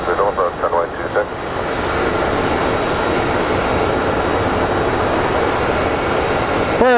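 Airliner landing at Sky Harbor International Airport, Phoenix, a loud sustained jet engine roar that builds and holds after brief radio chatter at the start.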